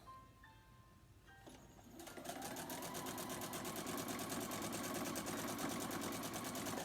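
A sewing machine stitches the seams of a mini quilt, starting after a quiet, hesitant moment and then running at a steady, rapid, continuous rhythm, close and fairly loud, with no talking.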